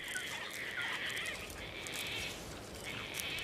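Gang-gang cockatoos calling in coastal heath, heard as steady raspy, creaky bird calls that are moderately faint and continuous, with no voices present.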